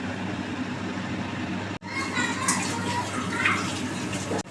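Water pours into a pan of chilli paneer, a steady gushing rush that halts briefly midway and then resumes, close and fairly loud.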